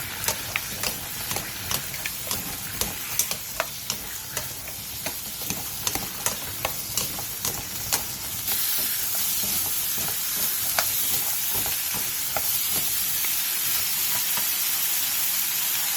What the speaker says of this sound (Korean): 팬에 기름을 두른 뒤 감자, 당근, 다진 마늘 1스푼을 넣고 센 불에서 2분에서 3분 정도 볶아주세요